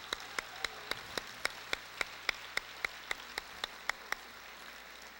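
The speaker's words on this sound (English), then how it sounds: "Let's give them a big round of applause." Sparse, evenly spaced claps ring out at a senior recognition night in a school hall, about four sharp hand strikes per second over a quiet room with no talking.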